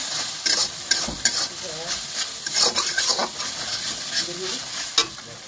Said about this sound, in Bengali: তো এখানে কিন্তু পেঁয়াজটা আমি একসাথে নাড়িয়ে নেবো, ভালো করে কষিয়ে নেবো।